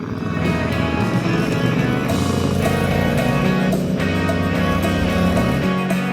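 A motorcycle rides along a mountain road near the Col de Vence, its engine droning loud and unbroken with constant wind rush. No voices break through the engine noise.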